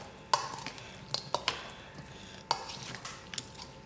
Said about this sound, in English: So I will stir this